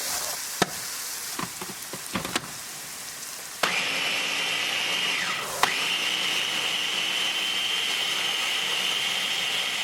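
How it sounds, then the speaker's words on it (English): Blender running steadily at close range as it purees tomatoes and green chili for a malai paneer dish, a sustained whirring roar after a few sharp knocks and clatters at the start. "on other side we're going to use the same blender"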